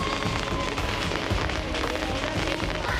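Fireworks and firecrackers set off during Chinese New Year celebrations in Wenzhou, China, forming a dense, continuous crackling roar with overlapping pops, steady and loud throughout.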